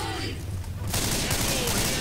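Gunfire in the video game Left 4 Dead 2 bursts in as a dense, continuous volley, loud and close, cutting in sharply partway through a short stretch of in-game noise.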